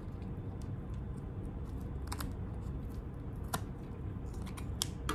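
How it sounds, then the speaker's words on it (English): Scissors trimming duct tape at the nose cone of a water bottle rocket, a few crisp, close snips standing out over a steady background hiss. "so I'm going to trim the duct tape"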